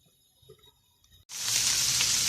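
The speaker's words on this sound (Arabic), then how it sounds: "انا هنقلها ورا واجيب الطاسه قدام عشان نحمر مع بعض التومه" Garlic hits a hot pan partway through and breaks into a sudden, loud, steady sizzle after a near-silent start with faint clinks.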